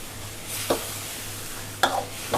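Sliced shallots stir-fried in a hot pan for a spicy stir-fried dish, a soft steady sizzle with two sharp scraping stirs of a utensil against the pan.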